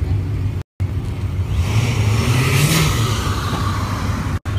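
An exotic car's engine revs hard and loud nearby on a New York City street at night, a deep rumbling roar that swells and drops, with two brief gaps in the sound.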